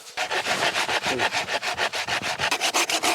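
Rhythmic, rasping strokes of a saw cutting through dry wood, fast and steady back-and-forth, close and loud with no talking.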